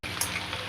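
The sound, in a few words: pointed gourd and potatoes frying in hot oil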